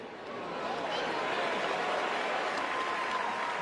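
A stadium crowd of 55,000 at a Dodgers–Phillies playoff baseball game bursts into sustained applause, a dense, loud wash of clapping that swells and holds steady.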